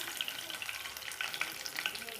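Dried red chillies crackle and sizzle as they fry in hot oil in a pan, giving a steady close hiss dotted with small sharp pops and spits.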